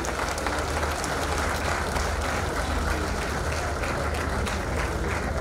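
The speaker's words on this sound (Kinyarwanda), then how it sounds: "Let's clap as we welcome the Honorable Minister of Trade and Industry." A crowd gives steady, dense applause to welcome the Minister of Trade and Industry at an official opening, continuous and even throughout.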